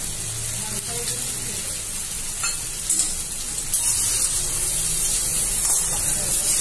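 Sabudana khichdi with red chilli powder and crushed peanuts sizzles steadily in a pan, stirred continuously, with a soft broadband hiss throughout and a few brief scraping bursts from the spoon.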